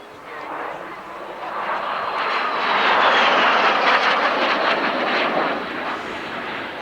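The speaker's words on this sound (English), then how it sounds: "This aeroplane, a 2-seater, gliding this aeroplane through the sky." A Canadair-built two-seat jet aircraft sweeps past at an airshow at Alconbury, its steady, loud roar swelling to a peak and then easing off over several seconds.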